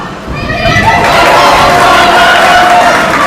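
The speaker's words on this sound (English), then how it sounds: "And the crowd goes wild." A loud arena crowd roars and cheers at an MMA fight, the din swelling within the first second and holding steady and dense throughout.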